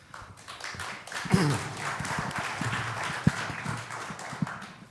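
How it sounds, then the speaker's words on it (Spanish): An audience applauds at a tribute lecture honoring Roberto Bolaño, with dense, sustained clapping from a crowd filling the room. "Imagino que los aplausos son para Manuel, por supuesto, ¿no?"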